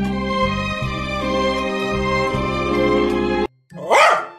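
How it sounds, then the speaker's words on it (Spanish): A dog in a Shin Sonic fan-made game barks once near the end, a short sharp yelp after a long stretch of droning game music that cuts out just before it. "Roberto, no le ladres a Juan."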